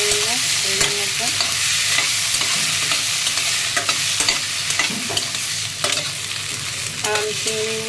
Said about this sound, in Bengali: চিংড়িটা আগে একটু ভেজে নিব এর মধ্যে